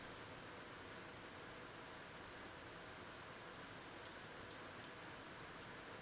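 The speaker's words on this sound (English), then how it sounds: "How the sound of the rain can do that." Steady rainfall hisses as an even, continuous wash of noise, soft and distant, with no voices.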